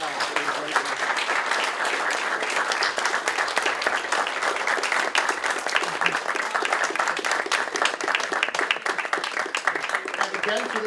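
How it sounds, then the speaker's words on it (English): A crowd at a junior high school Veterans Day essay winners ceremony gives sustained, even applause, a dense wash of many hands clapping at steady loudness throughout, with a voice speaking beneath it. "Everyone, give them all a round of applause one more time"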